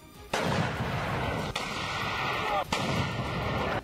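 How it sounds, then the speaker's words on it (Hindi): An artillery launcher fires a shell: a sudden loud blast erupts and then a sustained roar of firing and rumbling carries on, with two further sharp reports punctuating it. "जैसे ही उसने रस्सी खींची, जोरदार धमाके के साथ लॉन्चर से गोला फायर हो गया"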